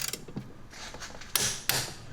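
A torque wrench ratcheting as a spark plug bolt is tightened on a BMW E93 335i with the N55 engine, a few close mechanical clicks and creaks followed by two sharp, louder snaps.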